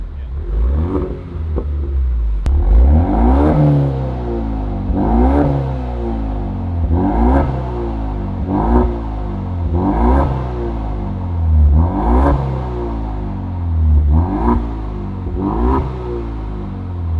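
A Ford EcoBoost Mustang with a Borla Ford Performance exhaust revs again and again, each loud, close rise and fall of the engine note repeating roughly every second or two over a steady idle rumble.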